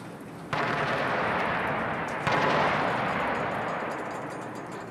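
Gunfire in the war survival game This War of Mine: two loud broadband blasts with long rumbling tails, the second about two seconds after the first, each swelling into a sustained roar.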